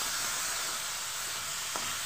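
Moong dal and potato frying together in a pan, giving a steady broadband sizzle with a faint light clink of stirring near the end, heard alone without any talk.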